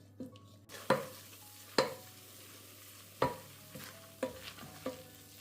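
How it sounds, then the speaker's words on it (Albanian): Flour frying in a pan over medium heat while being stirred: a quiet low sizzle broken by several sharp scraping strokes of the spoon against the pan, no talking. "E fërgojmë në zjarr mesatar për 3-4 minuta, por nuk duhet që ta skuqim shumë, thjesht pak sa të fërgohet mielli"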